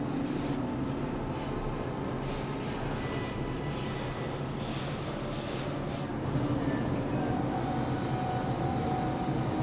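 Airbrushes spray cold paint for Nightcrawler makeup on the X-Men United set, making a continuous soft hiss broken by a few brief pauses.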